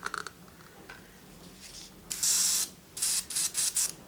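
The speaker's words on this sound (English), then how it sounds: "I just need to spray it pretty lightly because it is that color" An airbrush sprays green paint lightly onto a rainbow trout glide bait in short hissing bursts: one longer puff, then several quick close blasts separated by brief pauses.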